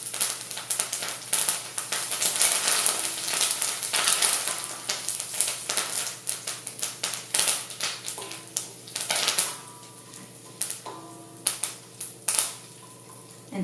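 Curry leaves and asafetida crackling in hot oil for a Chettinad garlic curry, dense popping and spitting up close that thins into scattered sharp crackles toward the end, no voices.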